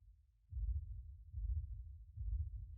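A 909-style techno rumble kick made in Ableton Live with a high cut applied: deep, muffled low thumps repeat roughly every 0.85 seconds, each followed by a rolling rumble tail, with no highs and no talking.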